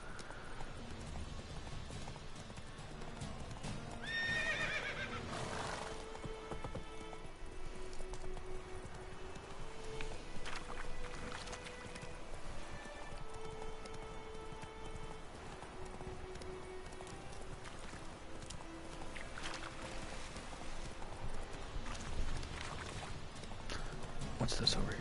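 Roach the horse in The Witcher III moves along with a continuous rhythmic clip-clop of hooves, steady and moderately loud, under background game music and occasional talk.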